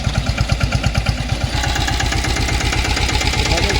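A three-wheel Jyoti sanedo tractor's diesel engine runs close by, first chugging in a steady rapid knock, then settling into a rougher continuous clatter.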